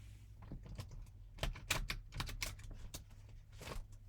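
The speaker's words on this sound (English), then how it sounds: "The mic blows up when you shuffle cards near it." Quick, crisp card-shuffling riffles come in several short bursts close to the mic, with snappy clicks between them and no talking.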